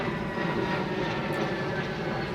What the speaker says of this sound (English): Let's wait for the plane to go over.